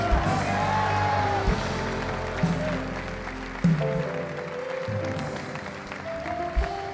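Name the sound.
audience applause at church conference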